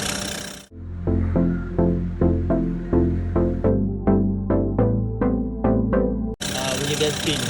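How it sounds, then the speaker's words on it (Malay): The engine drive belt on a Perodua Myvi squeals in a rapid, regular series of about a dozen loud, close chirps, each one a short rising squeak, framed by brief bursts of broadband noise at the start and end. "antara contoh-contoh bunyi belting"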